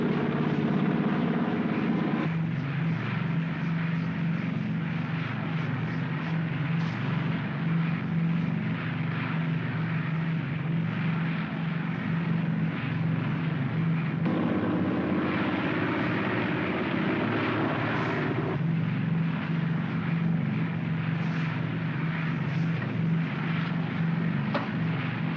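A 1950-era aircraft on final approach for landing drones steadily throughout, a continuous engine hum with a low tonal note that shifts in texture a few times, close and unbroken for the whole stretch.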